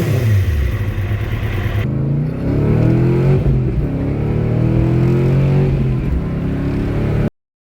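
A 900-horsepower Honda engine revs loudly and close while warming up, rising and falling in strong swells before cutting off abruptly at the end.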